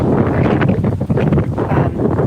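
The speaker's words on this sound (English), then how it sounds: "It's windy. It's very windy, guys." Loud, constant wind buffeting a microphone, a rough low rumble with gusty fluctuations throughout and no other clear sounds.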